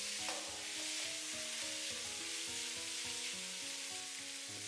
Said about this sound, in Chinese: 稍微翻炒一下。